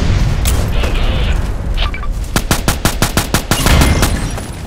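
Fast bursts from an SR2M Veresk submachine gun in the online shooter Contract Wars: a rapid string of loud, sharp shots close up over game ambience and mechanical clatter, with no talking.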